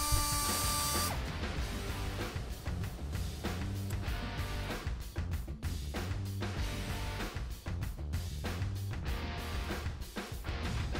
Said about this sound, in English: use a tapered burr to grind a V-groove along the crack line